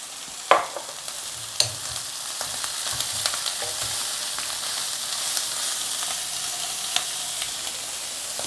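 Blood clams stir-fried in a hot pan with wilted aromatics, giving a steady close sizzle and hiss throughout, broken by a few sharp clacks of a utensil against the pan.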